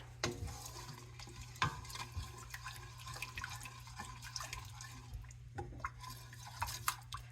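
A spoon stirring thick cream into a pot of coconut curry, soft wet clicks and scraping taps repeating irregularly and quietly over a low steady hum.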